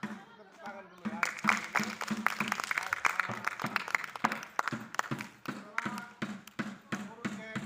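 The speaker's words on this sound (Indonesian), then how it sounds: "Kita tepuk tangan dulu ya." Schoolchildren clap together in a classroom, a brisk run of close, sharp hand claps that goes on for several seconds with a teacher's voice heard at the start.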